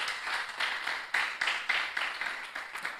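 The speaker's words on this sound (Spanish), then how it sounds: "Denle un fuerte aplauso a nuestro Dios." Church congregation at a youth service applauding, steady rhythmic clapping from many hands at moderate distance, continuous for a few seconds with no voices over it.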